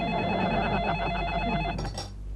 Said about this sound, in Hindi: ओह कौन फोन करता है सुबह सुबह?